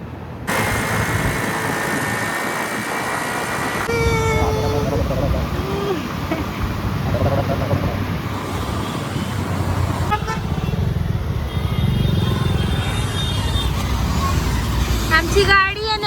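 A car crawls through heavy traffic in Navi Mumbai, its engine and road noise steady throughout, with horns tooting nearby and people talking inside over the rumble.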